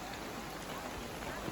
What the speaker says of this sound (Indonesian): hujan deras pun turun